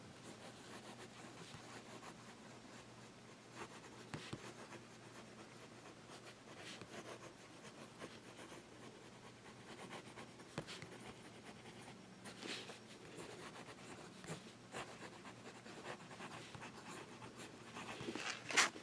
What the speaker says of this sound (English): Now we'll do some fast writing.